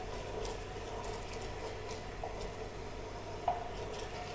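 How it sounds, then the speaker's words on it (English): Sugar syrup with cardamom boils in a pot for akkaravadisal, giving a steady, soft bubbling hiss with an occasional faint pop, heard alone at low level. "Sugar water is boiling nicely, so we can add the elaichi as well."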